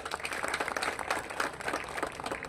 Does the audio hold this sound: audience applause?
yes